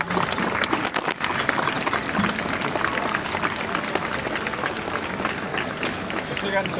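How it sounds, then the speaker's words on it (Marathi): Continuous applause from a crowd at an award felicitation ceremony during a sports festival opening, steady and dense throughout, mixed with voices. "टाळ्यांचा गजर हा सुरू राहिला पाहिजे माझी सर्वांना विनंती आहे।"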